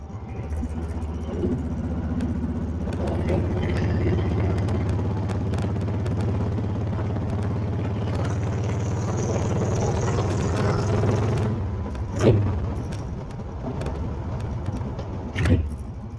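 A turbocharged single-cam Honda CB750 motorcycle engine runs loud and close, a steady low rumble held for about eleven seconds before easing, then two brief blips of throttle over a lower idle.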